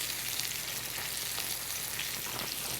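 Steak basted with butter and garlic sizzles loudly in a hot pan, a dense, steady crackling hiss with no voices.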